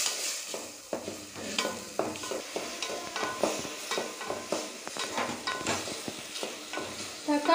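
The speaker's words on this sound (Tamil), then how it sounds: "தக்காளி சேர்த்து நல்லா கலந்து விட்டு நல்லா வேக வச்சுக்கோங்க." Chopped tomatoes and onions sautéing in a pan for a Tamil paruppu urundai kuzhambu, a soft steady sizzle broken by repeated scraping and clacking stirs at an uneven rhythm, close up with no talking.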